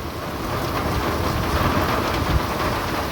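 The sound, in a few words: hailstorm with rain and thunder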